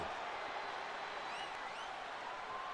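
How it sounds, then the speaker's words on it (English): Capacity arena crowd at a no-holds-barred WWE 2K25 match pitting Stone Cold Steve Austin against Rikishi, a steady broad roar of cheering and noise with faint whistles rising above it, continuous and fairly distant throughout. "do you hear this capacity crowd?"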